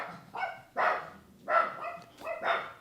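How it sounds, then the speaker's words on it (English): Several dogs in a home bark excitedly in quick repeated bursts, close and fairly loud. "my dogs just went crazy"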